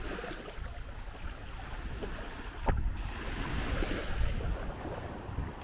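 Surf rolling onto a tropical white sand beach on Koh Chang, Thailand, a steady wash of waves with wind noise on the microphone and one brief bump partway through, no voices.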